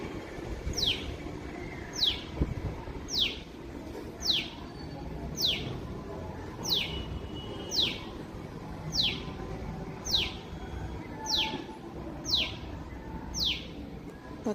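A bird on a balcony gives short, sharp, descending calls at a steady pace, about a dozen over fifteen seconds, moderately loud above a low background hum.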